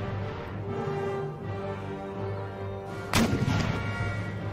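Artillery guns fire in a large-scale battle in the video game Empire: Total War, with one sharp, loud boom near the three-second mark ringing out over a steady background din of battle.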